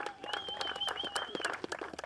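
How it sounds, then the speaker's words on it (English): Audience applause for John Duda at a baseball tournament event, a short spell of scattered, fairly close clapping from a modest crowd, with a tonal sound running through it. "Let's give a round of applause for John Duda."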